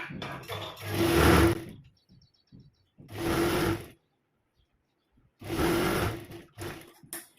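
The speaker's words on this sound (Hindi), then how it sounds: "यहाँ पे आपको एक सिलाई लगा देनी है" A sewing machine stitching a kurti runs in three close, loud bursts of rapid whirring, about a second each, separated by quiet pauses with faint handling noises.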